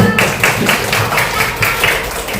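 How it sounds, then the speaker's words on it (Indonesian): Children clap together in a primary classroom during a fifth-grade coding lesson, a steady run of quick, fairly loud handclaps in rough rhythm filling the room, with no talk over them. "boleh tepuk tangan buat kita"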